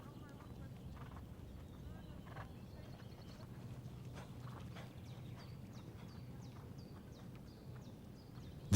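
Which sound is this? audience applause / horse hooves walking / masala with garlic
horse hooves walking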